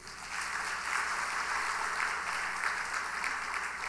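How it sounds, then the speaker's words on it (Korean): Steady applause from a congregation at a Sunday evening church service fills the space, a continuous wash of clapping hands that swells quickly and holds for several seconds. "박수 한번 크게 해주세요."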